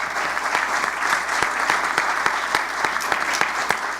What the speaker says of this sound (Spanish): De nuevo, un aplauso muy fuerte para ellos.